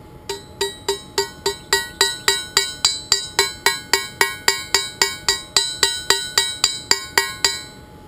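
Ball peen hammer blows on hot metal at a blast furnace forge, about twenty-four sharp ringing metallic strikes in a steady, fast rhythm, close and loud with no talking.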